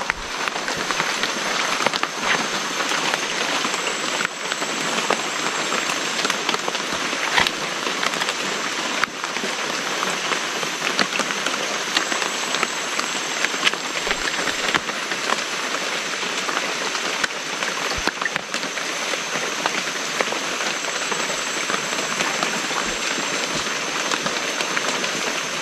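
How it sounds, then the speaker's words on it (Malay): Steady rain falls in a hillside forest at Bukit Ulu, Sarikei, a dense, even patter of drops on leaves and surfaces that continues unbroken throughout, close and constant with no voices. "Hari masih hujan. Hari masih hujan guys."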